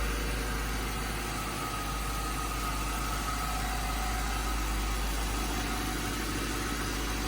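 Low-mileage Ford Thunderbird, about 5,000 miles, idling after a cold start, a steady even engine hum with light vibration and no talking.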